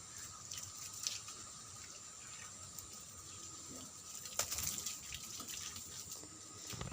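Water pours and splashes softly in a steady trickle onto grape seedlings in polybags, quiet and fairly close, with no voices.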